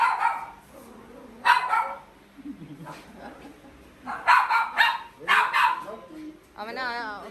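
A dog named Piku barks in a few short yapping bursts between people's voices, close by in a home setting, with a brief whining sound at the end.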